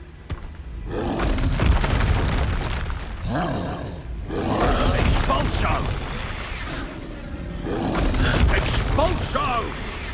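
Expulso spell explosions in the PS5 game Hogwarts Legacy, repeated heavy roaring blasts with rumbling debris and mechanical clatter during combat, loud and dense throughout.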